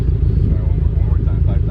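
A Subaru BRZ engine fitted with aftermarket headers holds around 4000 rpm, a loud, steady, low throbbing exhaust drone close by.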